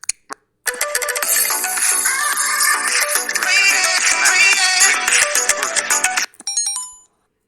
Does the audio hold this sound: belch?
no